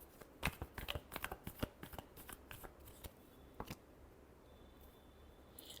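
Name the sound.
shuffling tarot cards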